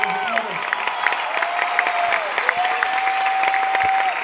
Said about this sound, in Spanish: Hacerlo con ese fuerte aplauso al rey de Madrid